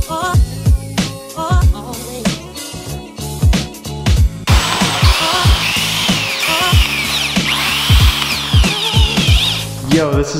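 A power drill bores small pilot holes into the metal frame of a DIY utility trailer, running in repeated short bursts with whining spin-up and spin-down, close and loud.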